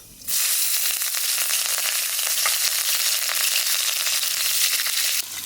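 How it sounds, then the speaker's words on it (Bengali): Nigella seeds and a few green chilies hit hot oil in a steady, loud, crackling sizzle that starts abruptly and holds with fine spitting pops throughout, close up and with no talking. "তেলের পর দিয়ে দেবো কালো জিরে আর দিয়ে দেবো কটা কাঁচা লঙ্কা"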